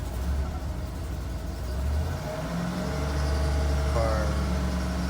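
A 2012 Chevy Tahoe with the 5.3 V8 FFV engine, misfiring, revved up from idle: a close, rough engine drone that rises in pitch midway and holds a strained, uneven tone.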